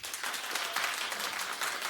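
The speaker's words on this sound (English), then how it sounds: "Clap." A television talk show studio audience breaks into sustained applause, a thick wash of many hands clapping at an even, moderate level with no voices on top.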